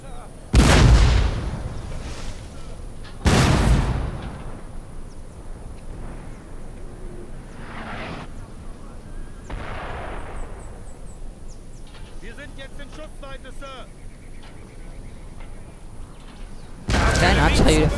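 Cannon artillery fire in the video game Napoleon Total War, with two loud booming blasts early, a few fainter distant shots in the middle and another heavy blast at the end, over low battlefield rumble.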